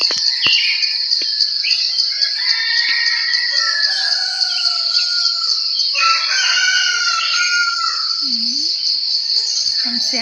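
A rooster crows at a rural home in Thailand, its drawn-out call rising over a loud, steady drone of crickets and insects, with other birds faintly in the background.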